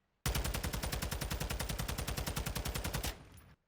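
A TAQ 56 rifle fitted with a Tundra barrel fires one long, rapid automatic burst at 50 meters in a video game. The shots are loud, evenly spaced and close, and a short tail rings out after the burst ends.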